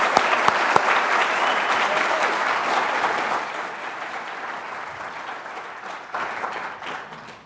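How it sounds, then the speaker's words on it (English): A symposium audience gives a round of applause, dense steady clapping from many hands that starts strong and gradually thins and quiets toward the end, with little talk. "let's have a round of applause for Janice"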